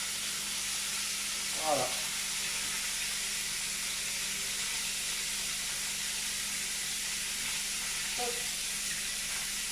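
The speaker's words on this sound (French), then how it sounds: "ma poêle est chaude, je commence ma cuisson de mon veau" Veal searing in a hot frying pan gives a steady, even sizzle throughout, with a couple of brief spoken words and light clatter over it.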